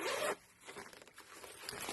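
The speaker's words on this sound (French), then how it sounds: "vous avez une fermeture éclair. La fermeture éclair me paraît assez résistante." A handbag zipper pulled open or shut, a quick close rasp followed by a softer, longer scratchy zipping run, loud and near with no talk over it.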